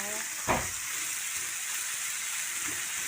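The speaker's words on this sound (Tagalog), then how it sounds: "Bigisa po natin siya. Haluin lang po natin siya mabuti." Bitter gourd (ampalaya) being sautéed and stirred in a pan, a steady close frying sizzle with one brief louder clatter of stirring near the start, no talk.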